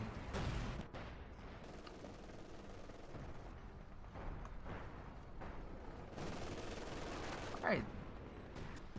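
Machine gun fire in Company of Heroes 2, with dense overlapping bursts and crackling gunfire clattering steadily through a busy, noisy battle mix, plus one sharper rising whistle near the end.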